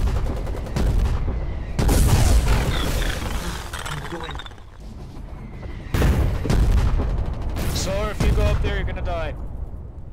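Heavy automatic gunfire and booming explosions fill a Foxhole war battle, dense bursts rolling in close with dull thuds between them.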